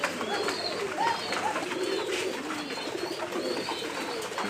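Pigeons coo in a loft, with several soft, rolling calls overlapping at close range against a light background hiss.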